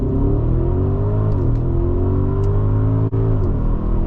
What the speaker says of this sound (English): now this time we're gonna do launch control once the traffic passes